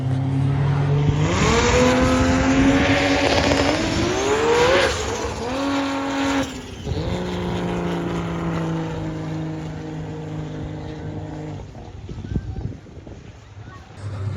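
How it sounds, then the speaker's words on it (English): A Nissan GTR race car accelerates hard at a track, its engine note climbing loudly through rising pitch sweeps and gear changes before fading as it passes, with crowd and ambient noise behind. "That's the fastest GTR in the world right there."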